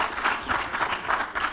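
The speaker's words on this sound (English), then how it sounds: "And Rob, no clapping for yourself next time" Brief burst of clapping on a studio game show, a few hands applauding in quick, irregular bursts at moderate loudness with no talk over it.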